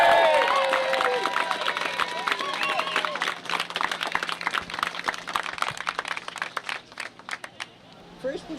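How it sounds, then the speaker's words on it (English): A crowd at a pride event claps and cheers, dense loud applause that thins and fades out over several seconds, with a voice heard briefly at the start. "Have a round of applause for Amelia and Margaret."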